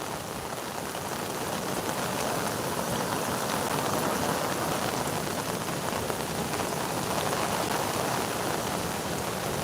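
Heavy torrential monsoon rain pouring down near the Purna River in Dang, Gujarat, in a dense, unbroken roar, steady and even throughout with no voices.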